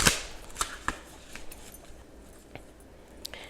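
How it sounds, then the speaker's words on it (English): Tarot cards being shuffled by hand, a few crisp snaps and riffles spaced irregularly, close and fairly quiet with no talk. "Maybe you'll get some ASMR shuffling here."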